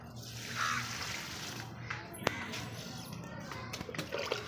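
Water is poured by hand onto trees in a garden, a running, splashing trickle that continues steadily, with birds and a voice faintly in the background.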